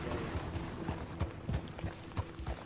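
Horse hooves in Red Dead Redemption 2 clop in an uneven, steady rhythm over a faint mechanical creak on the ride into the town of Rhodes, quiet and alone without talk.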